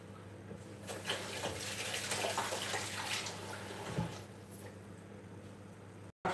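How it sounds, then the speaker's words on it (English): Hands are washed under a running kitchen tap while meatballs are being made, giving a steady moderate rush of water with a few splashes and shifts as the hands move, and no talk. "Just gonna wash my hands."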